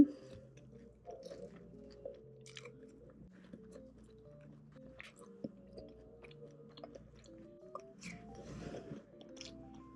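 Close chewing and biting of crunchy fried cheese balls, soft crunches and wet mastication repeating irregularly, quiet and near with no talking.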